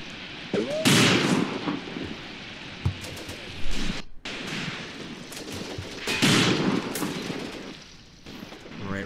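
Gunfire in the WWII tactical video game Graviteam Tactics: Mius Front, an ongoing fusillade of mixed rifle, machine-gun and heavier artillery-like shots, loud and dense with repeated bursts and no speech.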